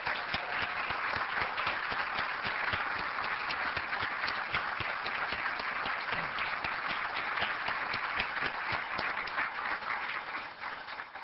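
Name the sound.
audience applause at annual meeting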